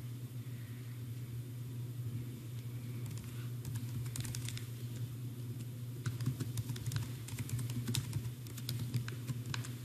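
Light keystrokes tap on a computer keyboard as a CDX user ID and password are entered, soft irregular clicks that grow busier toward the end over a low steady hum.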